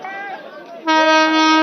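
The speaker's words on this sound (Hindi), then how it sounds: "हॉर्न की आवाज भी आ रही है" A loud, steady train horn blares from a locomotive at a crowded political rally in Patna after a few moments of voices, holding its tone to the end.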